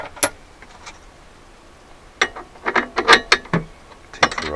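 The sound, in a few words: changing the cutter on a key cutting machine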